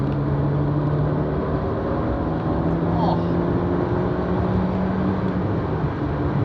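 A 1974 BMW 2002 Turbo pulls in third gear around 3,000 rpm, building boost: a loud, continuous engine drone with a steady rumble and a faint whine, heard from inside the car.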